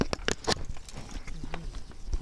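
Horse hooves clip-clopping in a rural village in Çamlıdere, Turkey, a quick run of sharp, close knocks early on, then sparser steps under faint background chatter.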